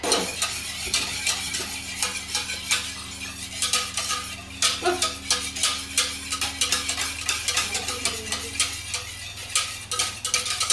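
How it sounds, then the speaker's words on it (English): Gingerbread cake batter of eggs and milk stirred in a bowl, a steady run of soft clinking and scraping strokes close by, with no talking. "Now I'm going to stir this a bit."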